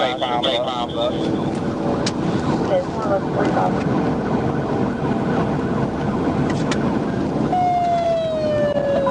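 Police car siren wailing during a high-speed pursuit of a muscle car on a highway, a rising and falling tone amid loud road and wind noise, with radio chatter and voices over it.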